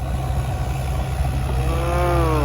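Kubota U55 mini excavator with its diesel engine running steadily and close, a continuous low rumble with rising whine toward the end, on a land-shaping job pushing and drilling earth.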